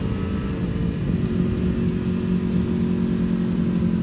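A 2024 BMW M1000R motorcycle engine runs steadily and loudly close by, its droning tone rising slightly about a second in as the throttle is opened without the clutch.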